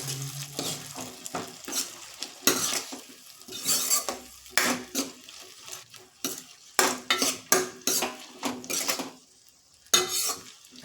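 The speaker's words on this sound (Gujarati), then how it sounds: "કોથમીર એડ કરી ફ્રેન્ડ્સ આપણે આને હલાવી લેશું" A spoon stirs a saucy cauliflower and potato curry in a metal pot, scraping and clinking in a brisk, irregular rhythm of close, sharp strokes over a light sizzle, with no talking.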